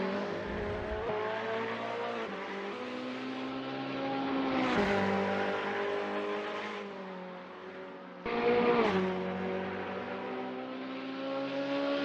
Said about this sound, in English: In right-hander is P6 driving a Ferrari 488 GT3.